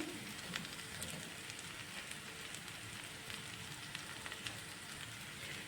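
Sabakki upma mixture with sago and crushed roasted peanuts frying slowly in a pan over a low flame, a steady soft sizzle and crackle with no talking.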